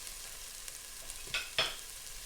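A couple of tablespoons of butter melt in a stew pot on the stove, giving a faint, steady hiss with two brief crackling spurts close by, without talk.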